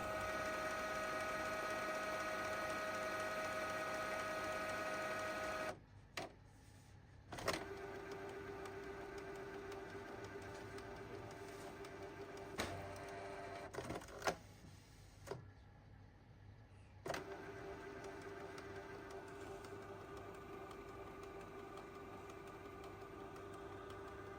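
A Canon G3010 inkjet printer running its print head cleaning cycle: steady mechanical whirring hum with tonal motor whine, broken by brief pauses, clicks and clunks as the carriage and pump shift, close and fairly quiet, with no speech.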